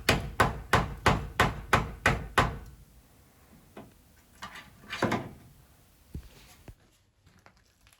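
A hammer pounds a rust bubble on a truck cab's metal, eight sharp, evenly spaced blows ringing close and loud, followed by a few scattered, softer knocks.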